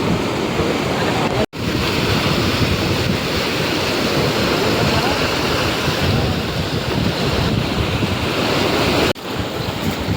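Sea waves break and wash steadily onto a shore in a continuous loud roar with wind buffeting the microphone, heard up close at the coast while out gathering crabs.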